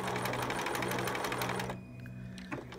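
A sewing machine stitches Velcro onto a preemie shirt in a steady, rapid, close mechanical whir that runs for well over a second and a half, then stops, leaving a quieter hum and a faint click.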